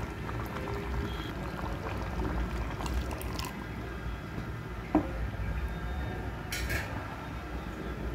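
A country chicken masala curry simmers in a pot, giving off a steady soft bubbling and sizzling hiss close by, with a brief clink midway and faint background noises.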